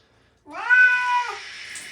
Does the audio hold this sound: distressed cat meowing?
yes